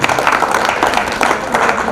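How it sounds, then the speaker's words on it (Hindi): A crowd claps together loudly and steadily for two seconds, a dense patter of applause with no pauses. "जोरदार तालियां"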